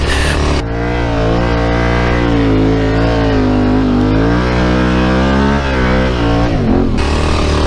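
A Yamaha Tenere 700 adventure motorcycle revs hard in sand, a loud, close, sustained engine drone whose pitch rises and falls as the throttle is worked.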